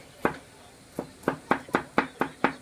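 A knife chops shallots on a cutting board, eight crisp, evenly spaced strikes in a steady rhythm, close and clear with no talking.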